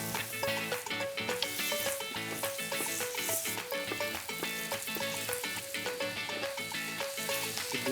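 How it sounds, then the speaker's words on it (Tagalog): Pork shoulder browning in a hot pan for afritada, with a loud, steady, close sizzle running without a break and no talk over it. "habang binabrown natin yung ating kasim"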